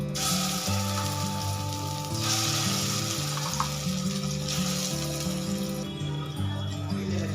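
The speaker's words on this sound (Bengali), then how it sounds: "এবার ঘিয়ের মধ্যে গাজরটা 3-4 মিনিট নাড়াচাড়া করে নেব।" Blended carrot frying in ghee while making gajar barfi, a soft, steady close-up sizzle lasting throughout under tonal background sound that resembles music.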